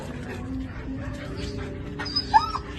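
A dog whimpers and whines amid steady crowd bustle at the Bocaue pet and livestock market, with a brief high yelp standing out near the end.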